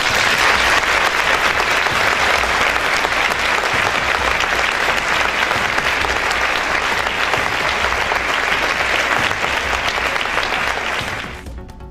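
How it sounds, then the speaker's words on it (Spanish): An audience at a literary award ceremony for a Spanish novelist claps steadily in a sustained, even round of applause that fades out at the end. "Vamos a aplaudir eso."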